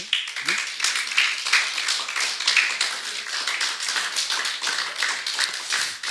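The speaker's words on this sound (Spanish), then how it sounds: "Denle un aplauso al Señor" Church congregation clapping at a Spanish-language service, dense rhythmic handclaps from many people, steady and fairly close, with faint voices underneath.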